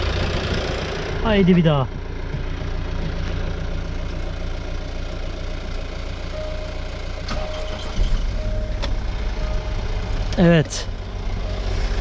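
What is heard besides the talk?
Jaguar XF 3.0D diesel engine starting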